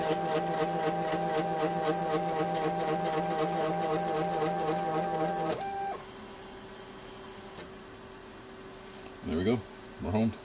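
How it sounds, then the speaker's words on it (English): A 3D printer runs its auto home routine, its stepper motors giving off a loud, buzzing whine with rhythmic pulsing that cuts off partway through, followed by quieter hum and a couple of brief soft thumps. "But what we can do is run the auto home, which actually works as expected now."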